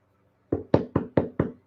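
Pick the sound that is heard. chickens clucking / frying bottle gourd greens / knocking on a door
knocking on a door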